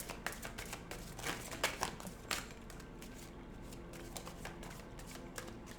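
Quiet riffling and flicking of tarot cards being shuffled by hand, a series of soft, quick bursts close by.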